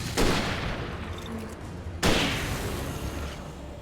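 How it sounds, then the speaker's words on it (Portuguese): Two shotgun blasts from the video game Alan Wake, about two seconds apart, each a loud close boom with a decaying tail, with no voices in between. "E vai ser 2 tiros de espingarda"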